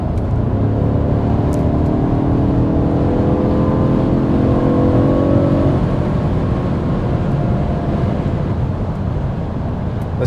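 BMW 2020 M550i V8 engine with Active Sound Design switched off, heard from inside the cabin while cruising at speed: a steady low drone with faint rising harmonic tones over broad road and wind noise, continuous throughout.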